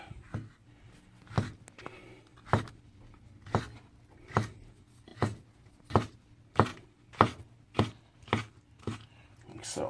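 A knife chops pheasant-back mushrooms on a cutting board in about a dozen crisp, evenly spaced thuds that speed up slightly toward the end, with a brief spoken phrase near the start.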